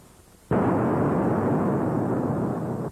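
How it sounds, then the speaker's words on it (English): A sudden loud explosion in a 1944 western film, bursting in after half a second of quiet and holding as a dense, roaring rumble before cutting off at the end. "What was that? Sounded like an explosion."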